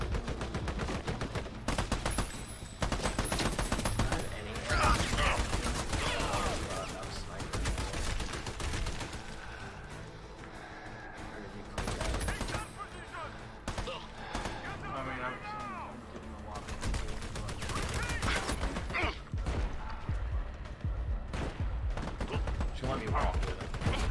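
Gunfire in the Army of Two video game, rapid bursts of automatic and single shots cracking loudly in clusters throughout, broken by short pauses, with players talking over the fighting.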